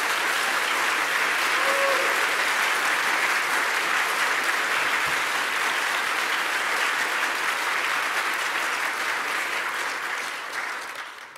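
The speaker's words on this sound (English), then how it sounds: "Can we give them a huge round of applause?" Sustained applause from a large audience at the closing keynote of the GCAP 2017 game developers conference, dense and steady for about eleven seconds before tapering slightly at the end, with no speech over it.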